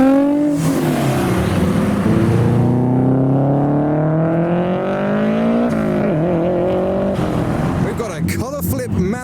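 A BMW E46 with Pandem kit, a drag car with a turbocharged straight-six, pulls away at a street car meet, its loud engine note rising through the gears, close by, with someone talking over it.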